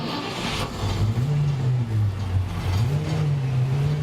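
A BRDM-2M military armored vehicle's engine runs and revs, its deep rumble rising and falling in pitch over several seconds, loud and close with no talking.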